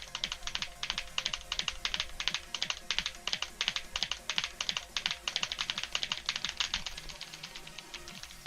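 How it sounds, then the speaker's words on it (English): Rapid rhythmic keyboard typing during play of the Muse Dash rhythm game, crisp clacking keystrokes in fast galloping bursts, close and clear with no talking. "Makes me sound like I'm galloping upon my keyboard, like a horse is running through."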